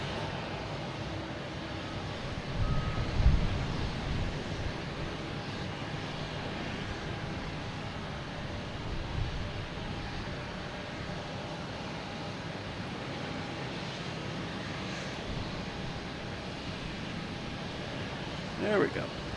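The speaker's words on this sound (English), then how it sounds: "So we have JetBlue here at A220 going to Raleigh, Durham." JetBlue Airbus A220 at Boston Logan Airport, a faint, steady distant engine rumble running under intermittent talk.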